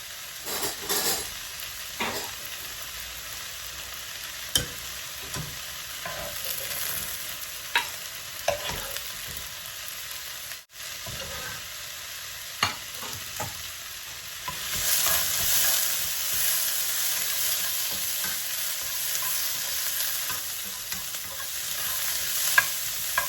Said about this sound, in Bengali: কাঁচামরিচ আর রসুনগুলা কুক হয়ে গেছে, এখন আমি এগুলা লাগাই নেব।